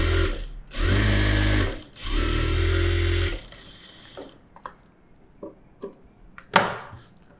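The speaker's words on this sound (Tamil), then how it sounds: "அந்த சிங்கிள் பீஸ் லைனிங் பீஸை மட்டும் எடுத்துகிட்டு எஜ்ஜில் தையல் போடுறேன்" A sewing machine runs edge stitching along a single lining piece for a bra front cup. It whirs loudly in two sustained bursts, then falls to quiet handling clicks and taps, ending on a sharp knock.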